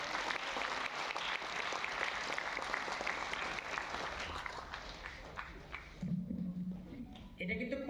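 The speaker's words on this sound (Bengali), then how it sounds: "তো এনাদের জন্য একটু জোরে হাততালি" A crowd gives a warm round of applause for a group of Scouts and Guides, with dense clapping for several seconds that fades out before voices take over.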